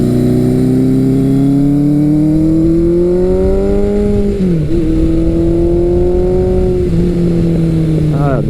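A classic Suzuki superbike engine revs hard under load, its pitch climbing steadily, dipping sharply around a gear change, then rising again, loud and close.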